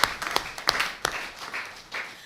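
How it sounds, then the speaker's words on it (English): A small group gives brief, scattered applause, with a few sharp claps standing out before it thins and fades. "give the organizers a clap"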